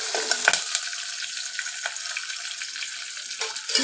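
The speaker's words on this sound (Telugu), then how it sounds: "ఇప్పుడైతే మన తాలింపు ఎర్రగా వేగిపోయింది కదా" Tempering spices fried until reddish in hot oil for a Telangana-style mashed dal dish give a steady, close crackling sizzle that runs alone throughout, with a few brief sharper pops.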